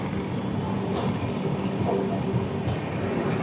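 Steady interior rumble of the 16332 Express rolling along the rails, heard from inside a 2A air-conditioned sleeper coach, with a continuous low drone and faint scattered clicks throughout.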